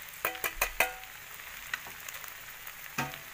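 Pork mechado with chili, rock salt and sugar stirred in a pan, several sharp scraping knocks of the spoon early on over a soft sizzle, then quieter stirring and one more clack near the end.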